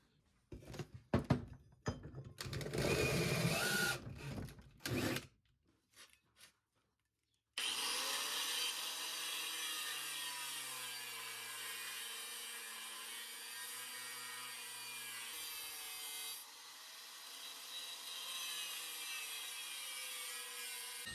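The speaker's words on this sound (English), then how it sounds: "drill 2 holes for like a slotted hole, and then I use a carbide bit" Drilling holes in metal with a carbide bit while building a bash bar for a Nissan D21 Hardbody: a few short scraping bursts, a brief silence, then a long, steady high-pitched drill whine that wavers slightly in pitch.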